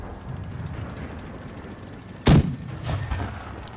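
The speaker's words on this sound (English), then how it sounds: "I missed that shot." A single loud tank cannon blast from a VK 30.01 P in World of Tanks Blitz erupts sharply, then trails off in a rumbling tail over a quiet ambient background.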